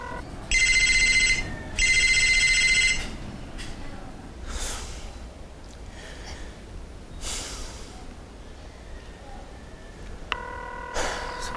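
Electronic telephone ringtone trilling in two loud bursts close by, followed by breaths and soft movement, then another brief ring near the end, with a voice speaking quietly in between.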